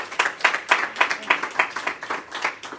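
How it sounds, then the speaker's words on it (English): An audience at a sermon claps together in a fast, steady unison beat, about a dozen crisp, even claps in quick succession, moderately close and fairly loud. "Clap your hands if you agree."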